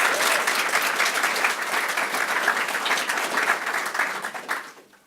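A crowd at a police promotion ceremony claps steadily for about five seconds, with even applause that thins out and fades toward the end.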